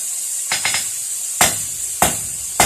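A blacksmith's hammer forges a narrow taper on a hot steel meat skewer: a quick triple strike, then two sharp, loud ringing blows at steady intervals over a constant hiss from the forge.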